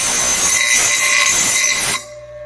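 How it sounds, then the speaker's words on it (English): A bench grinder bevels the edge of cut metal pieces, a loud, steady, bright grinding whine running unbroken for two seconds before cutting off abruptly, leaving a faint motor hum. "I just bring them over to the grinder, and I like to bevel this edge, clean up any loose debris"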